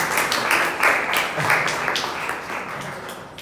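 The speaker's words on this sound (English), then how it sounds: "We have to applaud again." Audience applause at a Toastmasters meeting, a dense rhythmic patter of many hands clapping with slight swells, fairly close and sustained, gradually easing toward the end.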